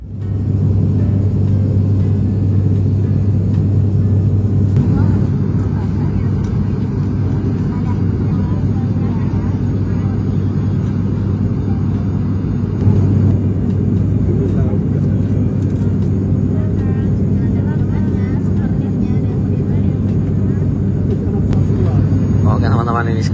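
Steady cabin roar inside a passenger airplane flying from Surabaya to Yogyakarta, a loud continuous low engine drone and rushing air with no breaks, heard close throughout.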